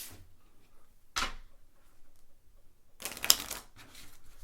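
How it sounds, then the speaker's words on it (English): Love Letter game cards being shuffled by hand, a quick riffle burst followed after a pause by a longer crisp flurry of card flicks, close and fairly quiet. "Give those a good shuffle."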